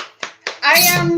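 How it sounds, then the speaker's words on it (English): Two sharp hand claps from a person near the microphone at a live Irish whiskey talk, followed by a burst of loud, bright mixed sound with a voice in it. "I give you the applause."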